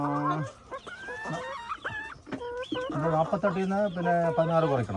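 BV 380 laying hens on a poultry farm cluck and squawk in rising, wavering calls, several birds overlapping close by throughout.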